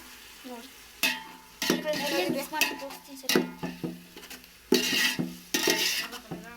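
Ginger garlic paste fries with mint and coriander in a hot pan. Loud bursts of sizzling come and go as a spoon scrapes and stirs, with a few clinks against the metal.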